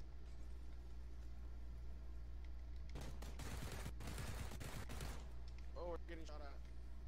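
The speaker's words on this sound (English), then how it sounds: "Oh, we're getting shot at." Burst of rapid gunfire from the battle royale game PUBG, loud crackling shots over about two seconds amid steady background hum, followed by faint voices talking.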